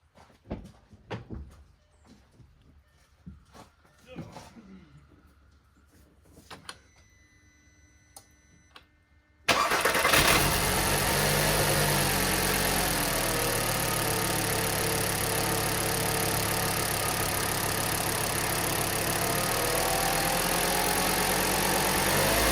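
A VW Beetle engine cranks and catches after several seconds of light clanks and knocks, then settles into a loud, steady idle that runs on alone to the end.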